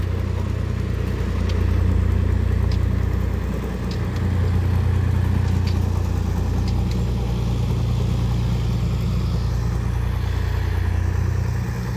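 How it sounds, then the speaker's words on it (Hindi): A tractor engine runs with a trolley attached, a steady low rumbling drone that stays loud and close throughout with slight swells, and no talk over it. "ये गाड़ी ट्रैक्टर और ट्राली"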